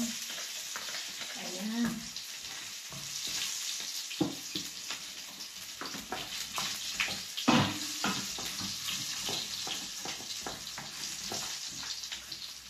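Garlic frying in hot oil for crispy chicken adobo, a steady close sizzle with spatula stirring and scraping, while a voice briefly speaks over it.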